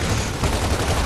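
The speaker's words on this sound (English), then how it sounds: "he's just seeing lots of shots going in right now by Rob" Dense gunfire from a video game match on the Clocktower map in a Defend the Fort mode, a continuous rattle of rapid shots filling the whole stretch, with no talk over it.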